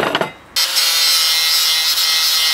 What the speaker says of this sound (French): Je vais déjà nettoyer soit la meuleuse, soit la brosse métallique, ces deux parties pour qu'il n'y ait pas de la peinture ou de la rouille.